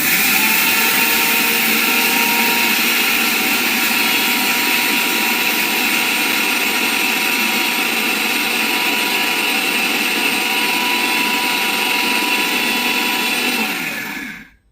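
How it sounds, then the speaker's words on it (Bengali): An electric blender grinds spices at home, a loud steady whining roar running nonstop for about fourteen seconds before cutting off abruptly at the end, with no talking. "থেমে থেমে ব্লেন্ডার করতে হবে।"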